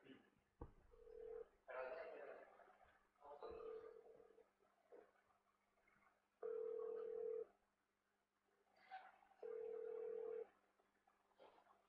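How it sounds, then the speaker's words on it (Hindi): A telephone call placed as a quiz-show phone-a-friend lifeline, with short electronic tones, two long steady ringback tones, and a voice speaking between them. "फोन लाओ भाई, हिमांशु सारवान को फोन लगाओ"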